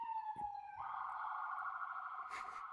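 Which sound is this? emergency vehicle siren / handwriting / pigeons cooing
emergency vehicle siren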